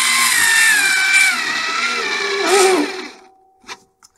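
YDD Tech 6V cordless screwdriver driving a screw, a loud whining motor with gear noise that strains and drops in pitch as it reaches full stall, then cuts out, followed by a couple of faint clicks.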